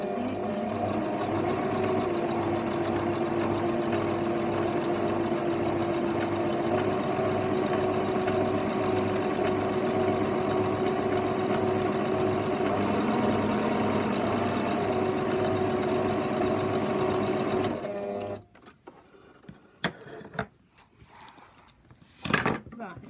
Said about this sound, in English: I'm just going to go straight stitch.